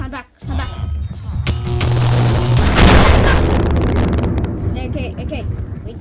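Grenades burst in the Minecraft FNAF monsters mod video game: a deep, loud blast swells and rumbles for a couple of seconds before fading.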